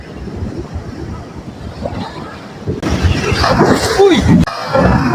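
Sea water splashing over a small fishing boat at sea, steady wind and surf noise swelling into a sudden loud rushing splash midway, with voices talking over it.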